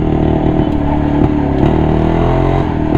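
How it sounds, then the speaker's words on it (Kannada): The engine of an old Maruti SS80 car runs close by, a loud, steady, throbbing drone with slight rattles and small rises in revs. "ಗಾಡಿ ಸೌಂಡ್ ಕೇಳ್ತಾ ಇದ್ರೆ ನರ ನಾಡಿಗಳೆಲ್ಲ ಅಲ್ಲಾಡ್ತವೆ ಗುರು"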